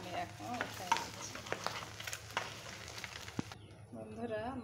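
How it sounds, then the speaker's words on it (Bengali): Fish frying in oil on a home stove, a steady sizzle with occasional stirring and utensil clicks, a voice talking over it for most of the time. "আর এখানে মাছ ভাজ হচ্ছে।"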